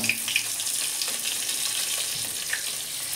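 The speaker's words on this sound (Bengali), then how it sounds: "প্রত্যেকটাই নুন হলুদ চিনি ভালো করে মাখিয়ে নিয়ে আর ভেজে নিচ্ছি।" Steady, bright sizzling of vegetables coated with salt, turmeric and sugar frying in a pan, crackling continuously with a few sharper pops.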